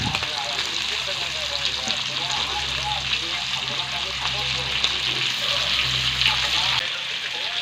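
Pork with chopped potatoes frying in a pan, a loud, dense sizzle and crackle running steadily throughout with a low hum beneath, close up and alone.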